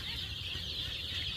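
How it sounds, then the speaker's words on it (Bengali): Chickens on a poultry farm cluck together in a steady, dense flock chatter, with high-pitched calls layered over a continuous low hum of the shed throughout. "দেখতে পাচ্ছেন আমার মুরগিগুলো অনেক সুস্থ আছে"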